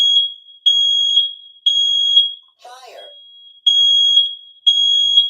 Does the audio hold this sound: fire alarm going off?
yes